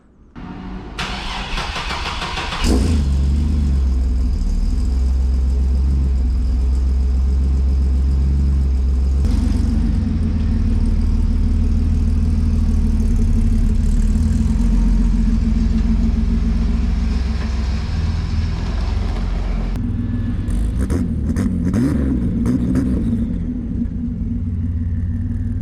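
A truck engine cranks and catches, then settles into a steady, loud rumbling idle that carries on alone, with a brief change in pitch near the end as it is revved.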